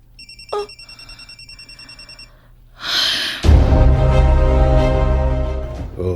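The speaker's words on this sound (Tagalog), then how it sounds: "pasagdi ka nang mag-ring" Telephone ringing in repeated electronic trills, then a louder burst of tones swells and sustains in a dense, close alert.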